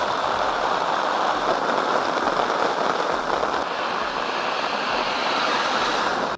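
Heavy rain driven by strong wind in Kottayam district pours in a dense, unbroken roar, loud and steady throughout with constant hiss and gusting texture, and no voices.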